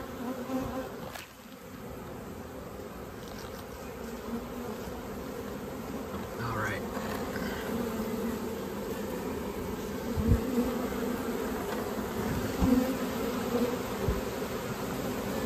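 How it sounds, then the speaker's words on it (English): A swarm of honeybees buzzes loudly and steadily at close range, a dense continuous drone with individual bees zipping past the microphone. "From what I can tell, the bees are marching inside."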